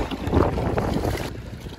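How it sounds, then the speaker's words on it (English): Wind gusting steadily over water during a kayak trip on the River Dart, a loud broadband rush with buffeting against the microphone and faint water movement, no voices. "I don't like that wind."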